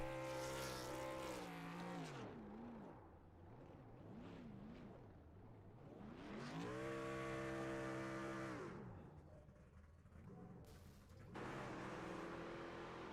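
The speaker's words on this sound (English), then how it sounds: "we're going to have some burnouts here from Scott Patton" A race truck does burnouts after a truck race at Auto Club, its engine revving hard in long swelling bursts with quieter gaps between them, loud and close, with no talk.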